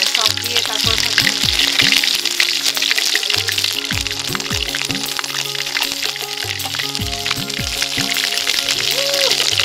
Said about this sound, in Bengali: সব দিয়ে তারপর ভাজবো।